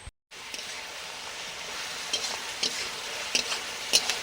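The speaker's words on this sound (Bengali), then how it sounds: "তেজপাতা দেওয়ার পরে পেঁয়াজ দিয়েছে পেঁয়াজটা ভাজা হচ্ছে" Sliced onion frying in oil with bay leaf and sugar for a country chicken curry, a steady close sizzle with occasional spatula scrapes and pops.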